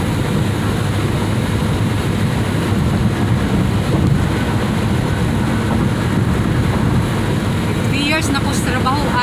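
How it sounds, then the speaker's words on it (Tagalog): Steady, roaring wind buffets the microphone throughout, a constant outdoor rush with a faint high chirp near the end. "hampak na po hangin kay open field na po siya"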